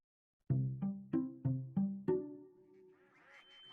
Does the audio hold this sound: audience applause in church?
no